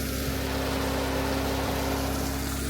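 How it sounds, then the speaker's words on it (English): A Jeep's fan runs noisily, producing a constant loud whooshing hum with a steady low tone and broadband rush that never lets up, close by and without any talking. "the Jeep finally stopped making all the noise"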